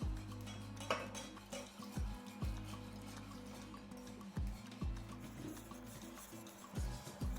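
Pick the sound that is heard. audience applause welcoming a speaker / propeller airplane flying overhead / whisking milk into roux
whisking milk into roux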